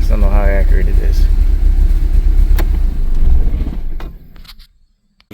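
A 1983 K-Car wagon with a five-speed runs steadily at a low, even rumble after sitting thirty years, while someone talks over it, before the engine cuts off and goes quiet.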